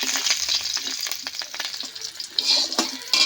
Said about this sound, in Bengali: ফোড়নটা একটু নেড়ে চেড়ে নেব।